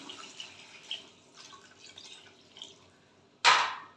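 Water is poured into a hot pan of hilsa curry with papaya and potato, making a sudden sharp splash and sizzle near the end, after a few quiet stirring and dripping sounds.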